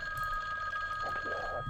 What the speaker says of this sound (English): That will activate a phone call